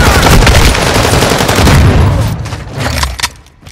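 Heavy automatic gunfire in a Rainbow Six Siege match roars loud and close in a continuous burst, then tapers off into scattered shots near the end.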